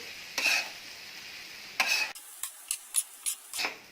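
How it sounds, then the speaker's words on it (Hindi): Leftover rice pulao is stirred gently on a tawa over low heat, street style. Separate scraping strokes come one after another, with a faint sizzle between them and short quiet gaps. "अब इनको धीरे धीरे मिक्स करना है ताकि चावल टूटे नहीं"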